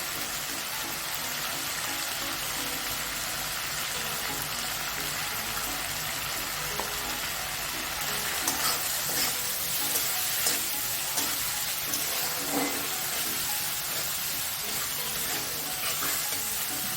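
Ground turmeric, salt and chili powder sizzle loudly in a pan for vegetarian ghugni, a dense continuous frying hiss with scraping stirs throughout and no talking.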